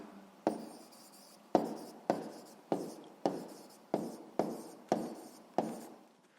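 Pen on paper while writing by hand, about ten short scratchy strokes in a regular rhythm, each starting with a sharp tap, close and clear with no talking.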